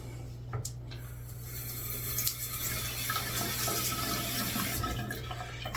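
Warm water runs from a tap into a sink for cleaning, a steady splashing gush over a low hum, with a few clatters at the start.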